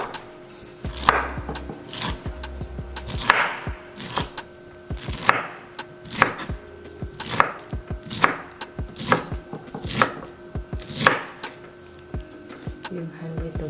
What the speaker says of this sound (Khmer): យើងហាន់វាតូចមកស្រួលកន្លក់វា